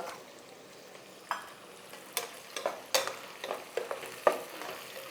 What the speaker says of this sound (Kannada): ಸ್ವಲ್ಪ ಈರುಳ್ಳಿ ಚೆನ್ನಾಗಿ ಲೈಟಾಗಿ ಫ್ರೈ ಆಗಲಿ.